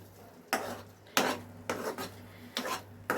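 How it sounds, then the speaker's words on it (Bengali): Utensil scraping and stirring in a pan of mashed cabbage bharta, several distinct scrapes spaced about half a second apart over a low steady hum, close and fairly quiet. "এবার এটাকে ভালোভাবে নাড়তে হবে"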